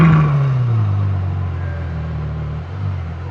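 A 700-horsepower Ferrari engine holds a loud, close roar that starts with a falling rev and then settles into a steady, rumbling drone with a slight dip near the end, and nobody speaks.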